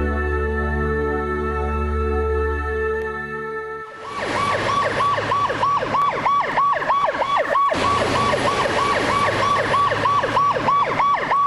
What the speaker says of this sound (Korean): 지난 여름 구급차 한 대가 응급의료센터에 닿았다.